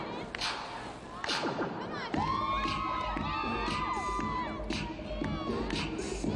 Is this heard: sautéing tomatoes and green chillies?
no